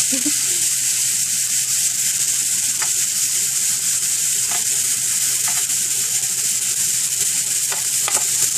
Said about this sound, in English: We're just going to cook this for a few minutes until it's seared on one side.